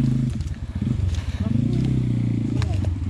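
A Pitgang 140xd pit bike engine revving and sputtering nearby over rough terrain, a loud uneven low-pitched burble with bursts of throttle, while people talk over it.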